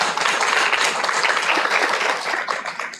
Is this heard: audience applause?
yes